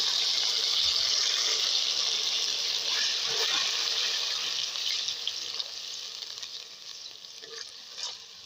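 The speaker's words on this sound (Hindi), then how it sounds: "अब इसमें थोड़ा सा पानी ऐड करेंगे" Water is added to a pan of browned onions cooking for aloo gobi, giving a steady hissing sizzle with bubbling that eases slightly toward the end, with no talk.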